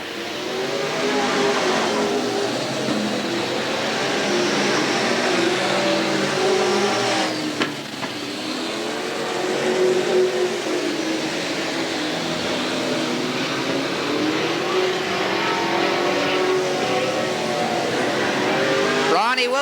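Race cars circle Willamette Speedway in 1989, their engines making a continuous loud drone that rises and falls as they pass, while a commentator talks over the racing the whole time.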